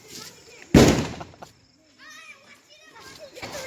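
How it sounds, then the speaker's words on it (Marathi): Firecrackers set off during a village Diwali celebration in rural Maharashtra, one loud sharp burst standing out among children's voices and chatter, with further talk continuing after the bang. "फटाके फोडा फोड दादा फोड फटाके"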